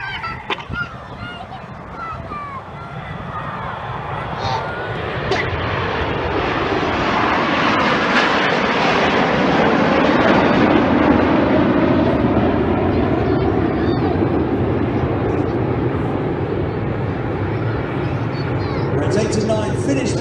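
Red Arrows jets fly a close-formation display at the Sunderland International Air Show, a loud roaring rush that swells and peaks midway, then holds as a broad engine drone, with a crowd and commentary faintly under it.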